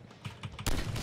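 Gunfire from a gun set to perforate mode in the Deadpool video game: a few soft shots, then a sudden loud, dense volley of rapid, crackling bursts.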